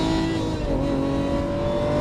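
A Lamborghini Aventador on a race track pulls hard at full throttle, its engine a loud, steady, close roar with a rising harmonic tone and no voices over it.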